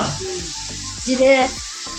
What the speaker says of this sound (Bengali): একটু মাছের ডিম ছিল সেটা আবার পেঁয়াজ দিয়ে ভাজা বসিয়েছে